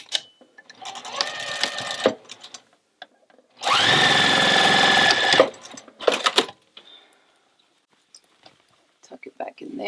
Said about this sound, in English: You can close this up by hand, but by machine is easier and faster.